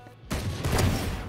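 Gunfire from a Valorant match bursts in after a quiet start, a dense sustained volley of shots filling the rest of the short moment at close range.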